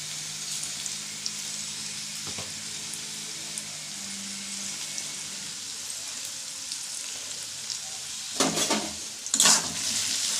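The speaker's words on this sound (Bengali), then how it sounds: "ভেন্ডিটা ভাজা করে নিই" Okra frying in a pan gives a steady, fairly quiet sizzling hiss, with a couple of louder bursts near the end as it is moved.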